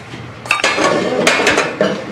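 Metal pots clank and knock against a stovetop as they are set down, with several sharp, close clinks and scrapes in quick succession.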